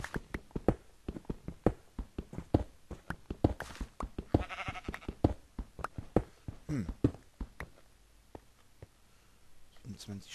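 A sheep bleats briefly in the Minecraft video game, a short, mid-loud wavering call amid clicking game sounds, while a person talks over much of the stretch.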